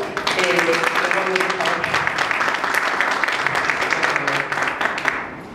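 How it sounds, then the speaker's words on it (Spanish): Sustained audience applause for invited speakers at a talk on autism care, a dense steady wash of clapping running the full length with some voices mixed in, fading slightly at the end. "yo pido un fuerte aplauso para nuestros expositores invitados"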